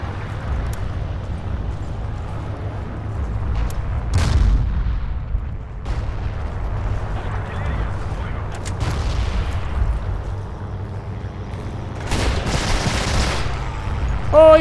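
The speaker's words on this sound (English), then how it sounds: "Someone's shooting at me." Gunfire and artillery-like booms rumble through a Forgotten Hope 2 multiplayer battle, with a steady low roar, scattered bursts and a sharper volley near the end, partly under a voice.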